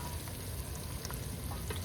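Eggs and onions sizzle and crackle in a pan while egg keema cooks, a steady close frying hiss with occasional stirring scrapes and pops.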